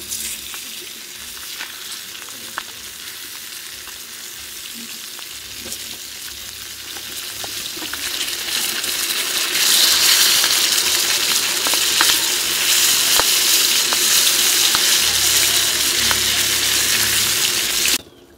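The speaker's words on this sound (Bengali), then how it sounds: "মাছের একটা সাইড ভাজা হয়ে গেছে, এখন উল্টে দিয়ে আর একটা সাইড ভেজে নেব।" Pieces of a large briquette fish fry in hot oil in a pan, a loud, continuous sizzle that swells and intensifies partway through as the fish is turned, with faint clinks of utensils.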